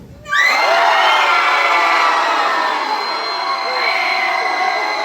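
A convention panel audience at Kaiju Brooklyn bursts into loud, sustained screaming and whooping on cue, a dense crowd roar that holds steady for several seconds.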